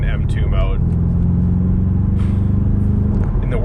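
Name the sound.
BMW M5 Touring G99 engine driving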